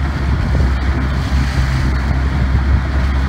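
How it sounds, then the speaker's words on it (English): Class 2 white water rushing through a Michigan river during a major flood, a loud, steady roar of churning water close by, with wind buffeting the microphone and no talking. "class 2 white water."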